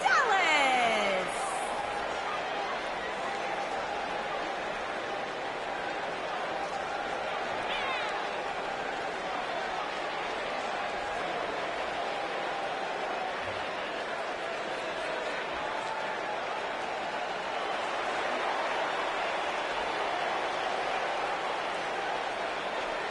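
Arena crowd in the WWE 2K19 wrestling video game, a steady roar of cheering and hubbub that holds at an even, loud level throughout, with a brief higher whistle-like sweep at the very start.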